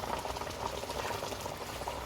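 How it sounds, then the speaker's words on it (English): Boiling water bubbles and pours into a pot of lamb curry with potato, a steady continuous bubbling and splashing hiss, close and moderately loud, with no talking. "And we'll add some water."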